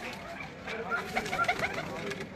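Migratory pigeons cooing on a rooftop in Pindi Bhattian, soft repeated coos rising from a steady hum of background noise.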